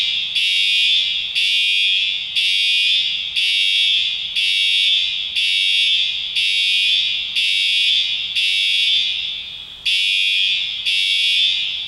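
An alarm going off at an airport gives loud, repeating high-pitched beeps, about ten even pulses with short gaps between them, close and steady, with no talk.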